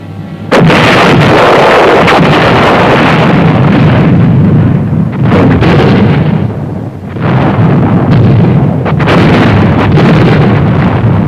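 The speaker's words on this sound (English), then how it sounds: "The barrage to soften up the enemy began. Artillery, mortars, and other supporting weapons." An artillery and mortar barrage pounds an enemy position before an infantry attack on a built-up area. Dense, continuous rumbling blasts overlap loudly throughout, with a brief dip midway.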